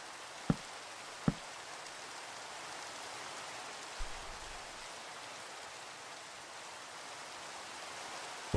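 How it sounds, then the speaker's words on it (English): Rain falls steadily in the Minecraft video game, an even hiss of broadband patter throughout, broken by a few faint sharp clicks, with no talk. "Now it's raining."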